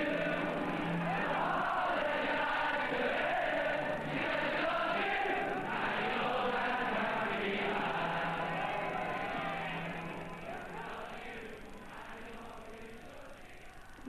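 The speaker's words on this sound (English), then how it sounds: "The music the crowd sings is the music that Liverpool has sent echoing around the world." A large Liverpool crowd singing together, a steady distant mass of voices with a roughly melodic swell that holds for most of the stretch before fading slightly toward the end.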